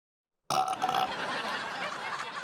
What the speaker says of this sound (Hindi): ये भूखी डकारे